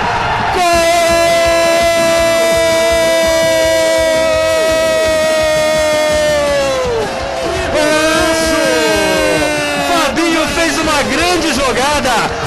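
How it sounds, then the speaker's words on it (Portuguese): Guarani (Bugre) fans roar and cheer a goal from the stands at a Paulista A2 football match, a loud sustained crowd swell with whoops and shouts, an excited commentator talking over it throughout. "Ouça a torcida do Bugre saudando o Fabinho no tobogã"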